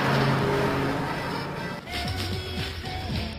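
A car skids off in a scene from the film Texas Chainsaw Massacre: The Next Generation, giving a steady rush of engine and tyre noise that breaks off briefly midway and then carries on with a rougher, rumbling tone.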